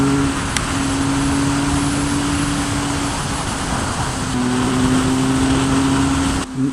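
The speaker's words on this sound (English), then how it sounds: "Nice, smooth triple engine, loads of mid-range grunt" A 2016 Triumph Speed Triple 1050 R's three-cylinder engine drones steadily at cruising speed, a smooth continuous hum with wind and road noise, the pitch shifting slightly midway.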